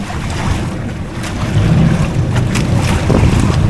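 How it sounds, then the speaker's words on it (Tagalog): Wind and choppy waves at sea around a small fishing boat near a buoy, a loud, continuous rush with heavy wind buffeting on the microphone and no speech. "Mahangin kasi at maalon-alon."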